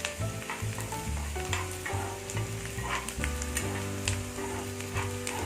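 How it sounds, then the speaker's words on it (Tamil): Garlic sizzles steadily as it fries in a pan for a Tamil garlic-pepper kuzhambu, a continuous crackling hiss with occasional stirring scrapes and a steady tonal hum underneath. "பூண்டு நல்லா வதங்கிடுச்சு"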